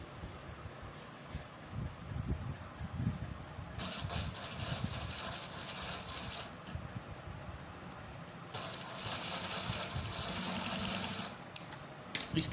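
A sewing machine stitches fabric pieces into triangle shapes, running in two sustained bursts of rapid whirring and clatter separated by quieter pauses, all close and fairly faint.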